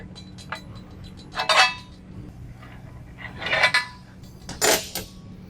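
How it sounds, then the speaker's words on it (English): Metal key rings slipped off steel pins on a boat lift conversion rig, three distinct clinking, jingling bursts spaced about a second or two apart, close and crisp over a quiet low hum. "After that, you start taking off the actual key rings on the normal pins."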